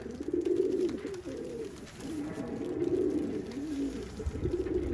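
Pigeons or doves cooing steadily up close, a continuous low warble of several birds gathered around a mineral dish where they feed.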